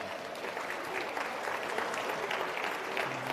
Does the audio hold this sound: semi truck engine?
no